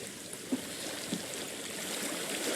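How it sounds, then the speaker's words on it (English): Flowing water from the video game Hellblade: Senua's Sacrifice makes a steady, broad rushing wash with a couple of faint soft knocks, moderate in level and continuous throughout. "I hear water."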